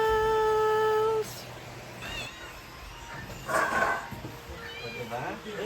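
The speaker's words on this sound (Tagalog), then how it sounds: "nag-aantay na ulit ng ating mga muning-muning. So, kapakain na po tayo ng mga pusa!" Several hungry cats waiting to be fed meow repeatedly at close range, with short insistent cries scattered over a few seconds after a steady electronic tone ends.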